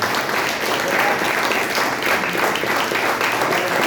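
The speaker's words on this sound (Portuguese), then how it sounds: "Você pode aplaudir o Senhor por isso?" A church congregation at a Sunday morning service applauds, a dense continuous clapping of many hands filling the room at steady volume.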